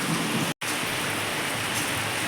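Steady, dense rain pours outside a balcony, a continuous hiss with no voices.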